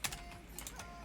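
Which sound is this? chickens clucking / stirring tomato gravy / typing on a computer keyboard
typing on a computer keyboard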